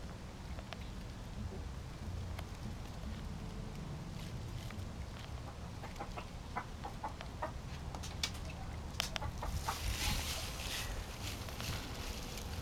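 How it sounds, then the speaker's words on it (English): A chicken in a small backyard shed clucks quietly in short, scattered bursts against a low rustling background, growing a little busier toward the end, with no voices. "And there's the chicken."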